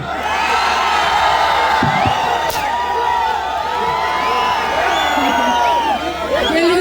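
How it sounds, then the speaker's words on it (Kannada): At a film launch event for actress Rachita Ram, a crowd cheers and whoops loudly and continuously, with shouting voices rising over the roar. "ಲೇಡೀಸ್ ಅಂಡ್ ಜೆಂಟಲ್ಮೆನ್ ಜೋರಾದ ಚಪ್ಪಾಳೆ ನಮ್ಮ ರಚಿತಾ ರಾಮ್ ಅವರಿಗೆ"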